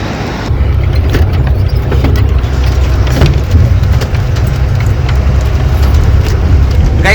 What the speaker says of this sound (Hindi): और वहां से आई देखो गाड़ी।